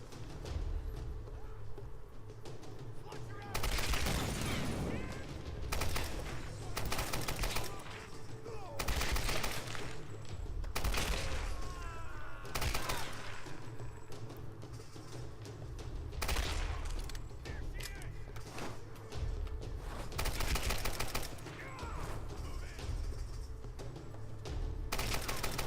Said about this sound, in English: People are shooting at me